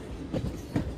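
A Khammam to Bhadrachalam Road MEMU train running on single track, with a steady low rumble and two soft wheel clunks about half a second apart, heard from on board.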